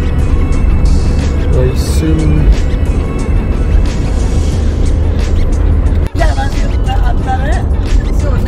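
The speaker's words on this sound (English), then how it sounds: "You can just tell by the traffic." Heavy road traffic on an Indian highway on the approach to Delhi, a loud continuous roar of cars and other vehicles close by, with people talking over it throughout and a brief dropout in the middle.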